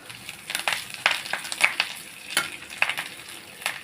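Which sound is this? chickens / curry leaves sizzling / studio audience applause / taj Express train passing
curry leaves sizzling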